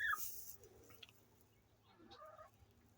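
A backyard hen gives a shrill, seagull-like squawk that opens with a loud burst, followed by softer clucks and a second quieter squawk, close to the listener against a low, faint background hum.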